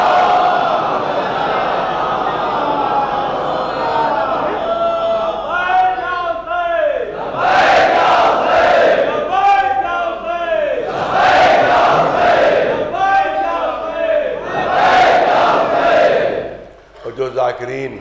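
A majlis congregation chants salawat together in loud unison, the voices rising in repeated surges at a steady rhythm, with a quieter stretch before the chanting begins.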